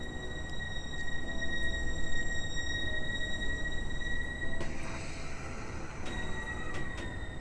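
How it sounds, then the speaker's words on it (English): Train in the Meio Railway video game slowing to a halt, a steady rumbling rolling noise with sustained high whining tones and faint squeals toward the end, fairly continuous and even. "slowly but surely, I'm going to come to a stop"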